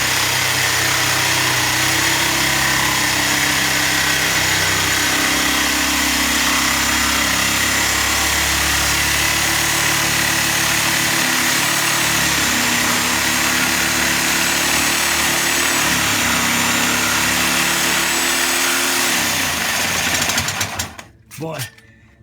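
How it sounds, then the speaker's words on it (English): A power saw cuts out the catalytic converters on a 2005 Ford Mustang 4.0, with a loud, continuous grinding buzz held for about twenty seconds before it stops abruptly. "I just don't like those saws."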